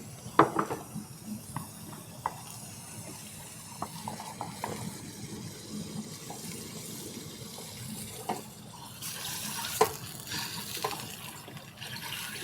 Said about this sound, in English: I'm going to combine the flour and the water to create our paste